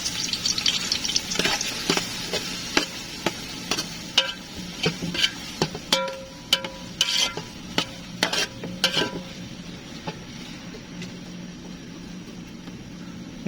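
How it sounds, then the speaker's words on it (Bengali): Finely chopped onions frying in a pan for biryani, a steady sizzle with many sharp clinks and scrapes of a spoon stirring against the pan, the activity thinning toward the end, with no voices. "সবগুলো পেঁয়াজ একসাথে দিয়ে দেবো। এরপর ভালো করে নাড়িয়ে নেব।"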